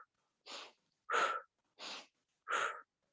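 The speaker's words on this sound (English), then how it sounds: "Inhale through the nose, exhale through the mouth." Four slow breaths alternate in even rhythm, a soft airy inhale through the nose followed by a fuller, breathier exhale through the mouth, close and quiet with pauses of silence between them.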